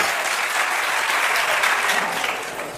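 Audience applause at a Jain monk's sermon, a steady dense round of clapping from a crowd that holds evenly throughout and only eases slightly near the end.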